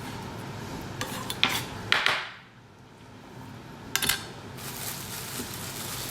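Metal utensils scrape and clink against a pan while mushroom risotto simmers, several sharp clattering strokes separated by a brief quiet lull, with a soft background hiss.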